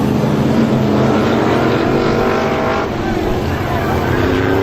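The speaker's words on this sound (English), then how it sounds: "We got a big old wreck. Oh, the front straightaway." Race cars roar together in a loud, continuous engine wash as a multi-car wreck unfolds on the front straightaway of an oval track, the dense rumble filling the whole stretch with no break.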